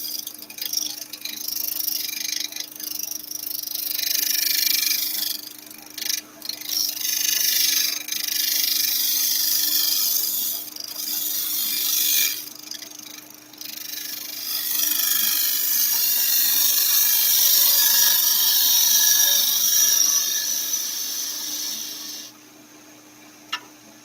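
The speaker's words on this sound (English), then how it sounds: "I'll just finish off the bottom with my bow gouge." A bowl gouge cuts the bottom of a wooden piece spinning on a woodturning lathe, producing a steady hissing scrape that pauses briefly several times and stops near the end, with a low lathe hum underneath.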